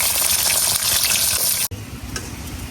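Cumin, onion and garlic fry loudly in hot oil for a dal tempering, browned until reddish. A dense, close sizzle fills the first part, breaks off abruptly, then carries on quieter and thinner.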